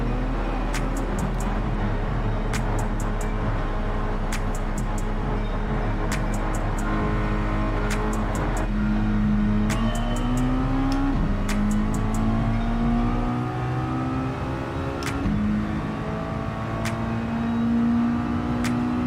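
Car engine in Gran Turismo 7 on PS4 Pro, revving steadily with rising and falling pitch through gear changes, loud and close throughout, with brief sharp clicks over the drone.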